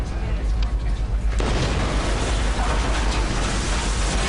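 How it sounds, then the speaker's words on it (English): An explosion blows open the cabin of a DC-10 airliner climbing near 12,000 feet: a sudden loud blast cuts in, followed by a sustained roar of rushing air. "Cabin blew up."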